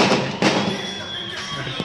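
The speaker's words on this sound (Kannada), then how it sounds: "ಪಟಾಕಿ ಹೊಡಿತಾವ್ರೆ." Firecrackers bursting at a village temple fair, the Honnadevi jatre, with a few sharp cracks over a steady crowd rumble and a voice in the background.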